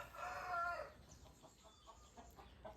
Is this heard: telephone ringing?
no